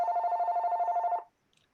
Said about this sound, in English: Sorry about that, my phone is ringing.